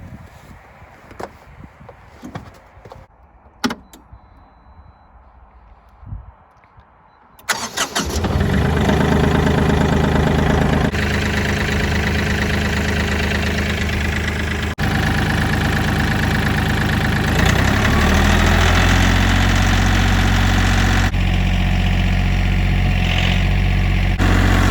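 A Bobcat CT2040 compact tractor engine cranks over after a few quiet knocks, catches and settles into a loud, steady diesel idle that holds to the end with no talking.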